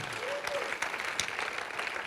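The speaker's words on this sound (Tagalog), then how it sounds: "Sige po, malakas na palakpak para sa Panginoon." A church congregation claps loudly in praise during a worship service, dense overlapping clapping with a faint voice briefly heard over it.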